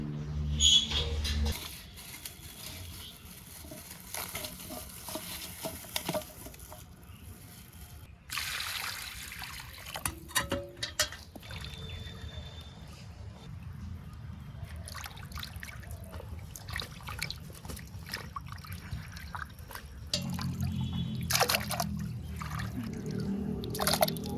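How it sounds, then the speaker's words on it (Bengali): Raw store-bought chicken pieces are rinsed under plenty of running water, trickling and splashing steadily with brief handling clatters, close but fairly soft. "মাংসগুলো এখান থেকে ধুয়ে নিয়ে যাচ্ছি একদম বেশি করে জল দিয়ে খলো খলো করে ধুয়ে নিচ্ছি"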